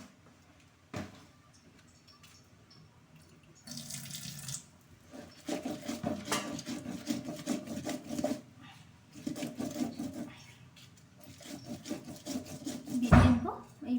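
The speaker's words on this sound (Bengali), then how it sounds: "তো এর সাথে আমি দুটো লঙ্কাও বেটে নেব, তাহলে ভালো লাগবে বড়াটা খেতে।" Green chillies are crushed on a grinding stone in a home kitchen, a rough rubbing scrape repeating in quick rhythmic strokes after some scattered knocks and a splash of water.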